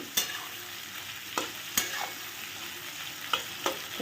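Chopped onions frying in a pan give a constant close sizzle, with several sharp spatula scrapes spaced irregularly over it and no talking.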